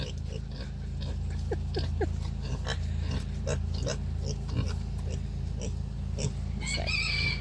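Pigs grunt and snuffle close by in a pen at a farm walkabout, short rough grunts repeating irregularly over a constant low droning hum, with faint bird calls in the distance.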